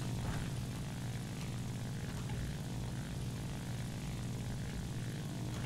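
Steady propeller-driven aircraft drone from a plane flying in War Thunder, a continuous loud engine hum that holds evenly throughout with no talking.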